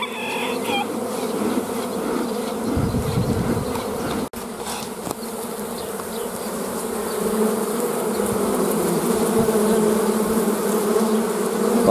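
Honey bees swarm around an opened hive during a mite treatment, producing a dense, close, continuous buzzing that swells slightly louder toward the end, with a brief handling knock partway through.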